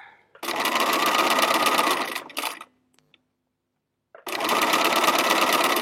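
A sewing machine stitches along a line in two loud, fast-running bursts, a quick rattling whir with a short quiet pause between them, close by.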